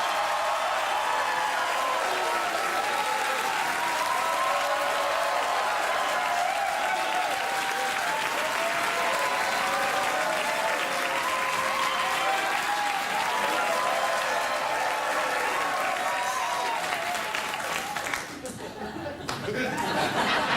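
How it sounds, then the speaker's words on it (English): A late-night talk show studio audience claps continuously, a loud dense roar of applause with scattered laughter mixed in, carrying on for about eighteen seconds before dropping off abruptly. "Go ahead, try clapping."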